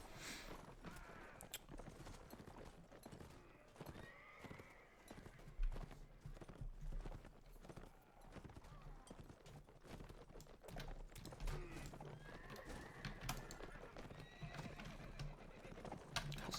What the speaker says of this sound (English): He's just getting trampled by our horses.